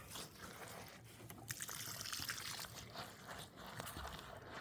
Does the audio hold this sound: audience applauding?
no